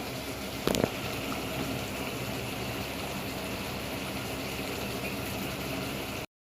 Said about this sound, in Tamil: இப்போ தண்ணி கொதிக்குது